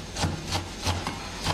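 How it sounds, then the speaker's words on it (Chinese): Pickled chilies are chopped with a knife on a wooden cutting board, giving a run of soft, scraping strokes in a steady rhythm, close by with no talking. "泡椒和泡椒一起剁碎"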